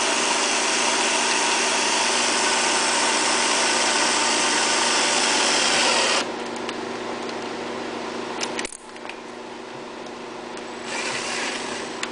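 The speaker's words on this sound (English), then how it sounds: "take it easy when you drill the hole" A power drill bores into a cast aluminum fuel tank part of a Yamaha EF6300iSDE generator with a loud, steady grinding whine that eases off partway, then picks up again near the end.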